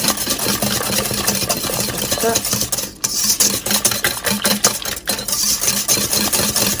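Eggs whisked vigorously by hand in a bowl for a spinach breakfast bake, a fast continuous rattling scrape with brief pauses around the third and fifth seconds, close and loud.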